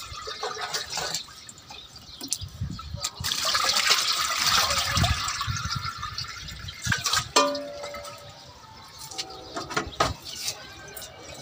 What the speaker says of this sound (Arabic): فهدلق عليه شوية مية كده